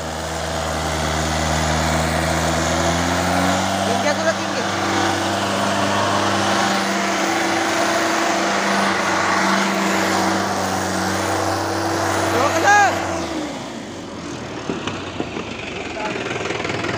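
A Mahindra 575 tractor hauling 4,500 bricks over rough ground chugs with a steady diesel drone and harmonic hum, then cuts off near the end; voices talk nearby.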